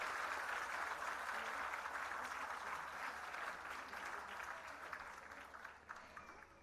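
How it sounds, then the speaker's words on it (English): Sustained applause from a crowd at a Bharatanatyam dance debut recital, a dense even patter of clapping that slowly thins and softens toward the end. "Can we have a louder round of applause for Adithi, please?"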